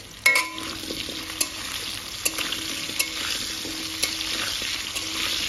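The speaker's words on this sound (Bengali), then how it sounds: "লবণটা দিয়ে আলুটা ভাজা করে নেব।" Salted potatoes fry in a pan while cooking Bengali-style mutton curry: a steady sizzle broken by regular stirring scrapes and light clinks of a utensil against the pan, close and without voices.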